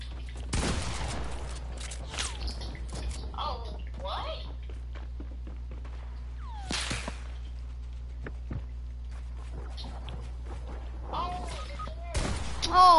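Gunfire and sniper shots in a PS4 online shooter, scattered sharp bursts and cracks at irregular moments, fairly faint, mixed with players talking throughout.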